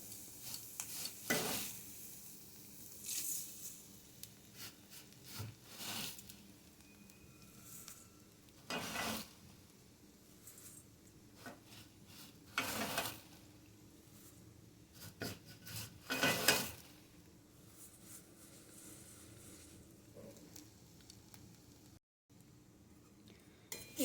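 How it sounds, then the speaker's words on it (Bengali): Flattened rice stirred and fried in a pan, giving soft scraping and rasping strokes in an irregular rhythm, each lasting a second or two with pauses between, under a faint low sizzle close by, no voices. "এরপর উপর নিচ নাড়াচাড়া করে ভেজে নেব"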